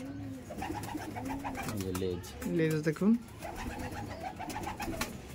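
Green Madras pigeons coo in a low, repeated rolling pattern throughout, with someone talking over and around the calls at close range.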